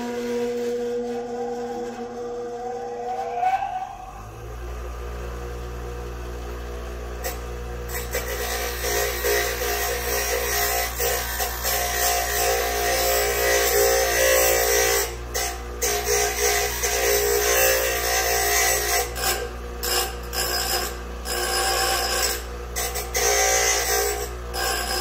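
A tool sharpening machine starts up after a short quiet stretch, then runs with a loud, steady motor hum and grinding noise, with irregular bursts and scrapes throughout.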